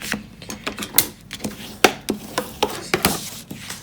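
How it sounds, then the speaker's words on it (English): Cardstock being folded in half along a pre-score and burnished with a bone folder for a handmade card, heard as a series of close, sharp rubbing strokes and taps in an uneven rhythm, with no voice. "So let's just quickly fold and burnish that with a bone folder."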